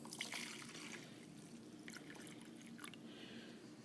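Water pours and trickles steadily into a container of rocks in a classroom science activity, a continuous soft splashing at moderate volume with brief louder spurts.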